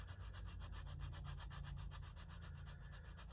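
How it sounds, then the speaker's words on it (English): Light sanding on the edge of a handmade leather wallet, a steady, faint rhythmic rubbing with even strokes and no talk. "Give it a little sand right here. See if it makes it look better."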